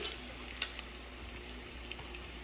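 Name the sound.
spices frying with onions in a pan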